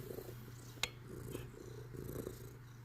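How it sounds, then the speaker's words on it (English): A cat purrs loudly and close up in a continuous low rumbling drone, with a couple of faint clicks and rustles over it and no speech. "He has got one of the loudest purrs I've ever heard."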